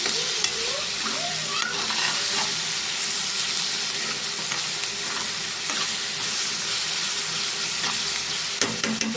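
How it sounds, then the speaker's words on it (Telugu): Chopped onions fry in a pan for a drumstick, tomato and egg curry, giving a loud, steady sizzle broken by stirring scrapes. A voice is briefly heard near the start. "కొంచెం బ్రౌన్ కలర్లో వచ్చేదాకా మనం ఉల్లిపాయని ఫ్రై చేసుకున్నాం"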